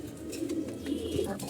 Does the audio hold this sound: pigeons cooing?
yes